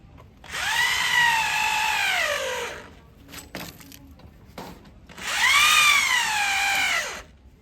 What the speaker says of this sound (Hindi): बाकी 2 स्क्रू को और टाइट कर लेना है इसी जगह पे